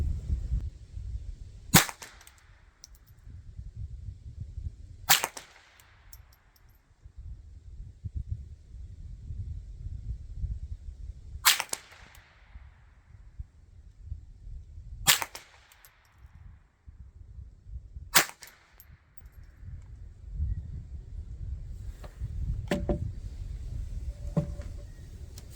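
Five sharp .22 rifle shots fired with Remington Thunderbolt ammunition from a Ruger 10/22 or Marlin Model 60, each a loud crack with a short fading tail, spaced a few seconds apart over light outdoor wind noise.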